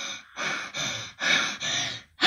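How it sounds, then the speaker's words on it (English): Heavy, rapid breathing from a game character, four or five loud close gasping breaths in a ragged rhythm with brief pauses between them. "Why are you breathing like that, Tails?"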